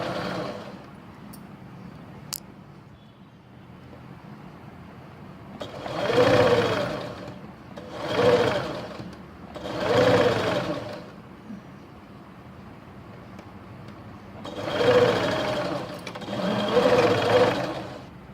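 Sewing machine stitching along a kurti neckline, running in four separate bursts of rapid mechanical whirring, close and fairly loud, with quiet pauses between runs and no talking.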